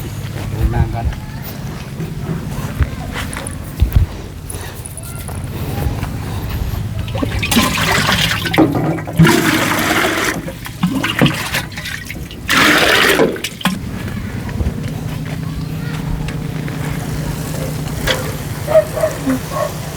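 Toilet flushing in a bathroom, a sustained rushing of water that swells and surges over about twenty seconds, with people talking faintly underneath.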